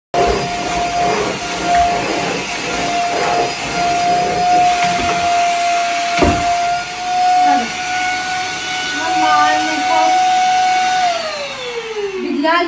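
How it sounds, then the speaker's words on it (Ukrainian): Steady whine of a vacuum cleaner running continuously, loud and close, its motor pitch dropping near the end as it winds down. "Слухайте, пилосос ідеально."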